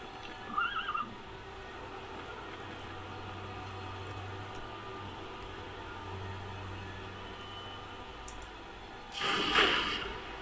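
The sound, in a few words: horse neighing and snorting in Minecraft video game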